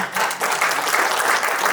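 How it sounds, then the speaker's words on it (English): Audience applause at a community event in a Guru Ravidas Bhavan hall, steady and fairly loud clapping from a crowd sustained throughout. "So big hand of applaud for Ashish."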